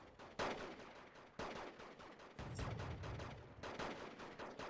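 Artillery fire and gunfire in Wargame Red Dragon: sharp, loud blasts landing close together, several impacts in a few seconds over a low rumble.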